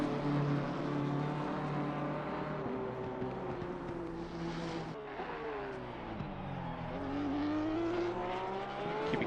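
BMW race car, entry number 213, lapping Laguna Seca in a racing video game, its engine droning steadily throughout with pitch falling under braking through the corkscrew and then climbing again as it accelerates away.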